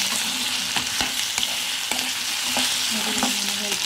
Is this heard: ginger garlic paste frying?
yes